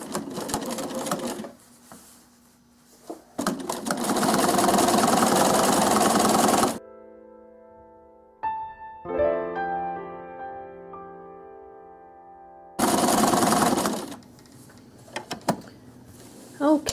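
Home sewing machine stitching faux-piped binding on a quilt, two long loud bursts of fast motor whir separated by a pause with a soft tonal hum, and the stitching starts up again near the end.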